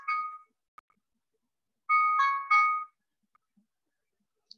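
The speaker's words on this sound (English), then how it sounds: "Excuse my phone, y'all. That was letting me know." A mobile phone plays a notification tone, a short melodic chime followed by a longer two-part tune, clear and close in an otherwise silent room.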